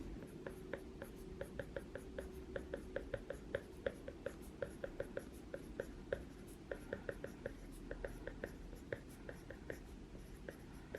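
A stylus writing on an iPad in GoodNotes, giving rapid, close, quiet taps and short strokes in a steady irregular rhythm throughout, alone with no talking.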